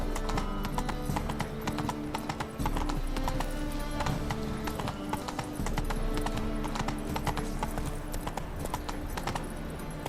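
Roach, Geralt's horse in The Witcher 3: Wild Hunt, gallops in a fast, steady clip-clop of hooves that is loud and close, with brief pauses in the rhythm.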